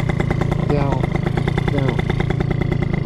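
A 2000 Italjet Dragster two-stroke scooter engine, started on its electric starter, buzzes close and steady throughout, with a brief voice over it.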